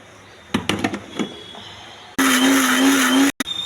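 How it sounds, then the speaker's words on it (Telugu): A kitchen mixer grinder whirs loudly and steadily for about a second as it grinds onion, tomato, cumin and mustard seeds into paste, stopping abruptly, after a few soft kitchen clatters and knocks. "కొంచెం జీలకర్ర, కొన్ని ఆవాలు, ఉల్లిపాయ, టమాటా, జీలకర్ర మిక్సీ వేయాలండి,"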